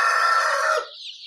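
A single loud, close call from a native chicken chick, a drawn-out squawk that trails off into a fainter higher tail.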